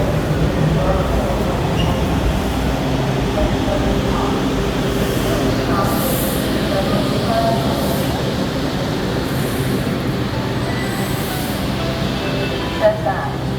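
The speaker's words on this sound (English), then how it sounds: "This is a Silver Line train to Largo." A WMATA Silver Line metro train rumbles along, a steady loud roar of wheels and motors throughout, with faint announcements and chimes above it.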